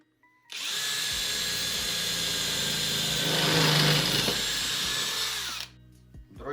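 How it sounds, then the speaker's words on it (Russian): An electric drill starts abruptly and runs at a steady high whine for about five seconds, swelling slightly midway, then cuts off with a brief winding-down clatter. "И сейчас попробуем поработаем данным сверлом."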